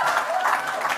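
A live event audience applauds to thank sponsors, a brief burst of dense clapping heard close and fairly loud.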